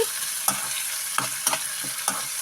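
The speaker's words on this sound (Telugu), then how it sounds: "అల్లం ఆనియన్స్ వీటన్నిటినీ బాగా కలుపుకోవాలి" Ginger and onions fry in a pan with a steady close sizzle, broken by several spatula scrapes and stirring strokes, loud and alone with no voices.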